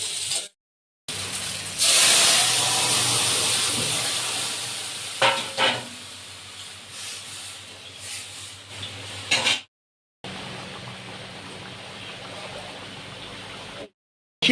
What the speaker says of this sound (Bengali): ফোড়নে দিলাম গোটা শুকনো লঙ্কা, গোটা গরম মশলা, গোটা জিরে